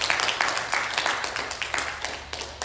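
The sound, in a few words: congregation applauding in church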